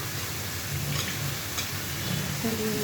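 Salted fish going into a pan of frying spices gives a steady, dense sizzle throughout, with faint scraping of a utensil now and then.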